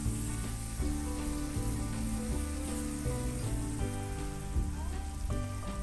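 Tomatoes stir-fried in a pan hiss with a steady, dense sizzle, partly buried under continuous melodic background music for the whole stretch.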